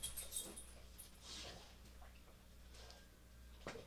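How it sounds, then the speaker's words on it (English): A pet dog rolling around on an indoor floor gives soft whimpers and breathy panting, faint and close, with brief rustles and shifting sounds against a quiet room hum. "My dog is rolling around on the floor."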